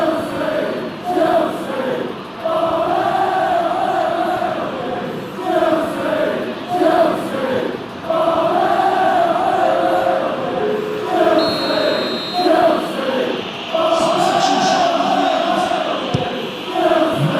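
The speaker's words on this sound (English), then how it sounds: "it's good to see that the crowd appreciate his efforts" A stadium crowd in the football video game eFootball PES 2021 keeps up a loud, continuous chant and roar, swelling and dipping in waves, with a short bright tone cutting in partway through.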